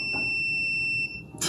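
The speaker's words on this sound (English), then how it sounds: "Everything has this weird beep to it, especially the horn." A single high-pitched electronic beep from the horn of an Unagi Model One electric scooter, held steadily for about a second before cutting off abruptly.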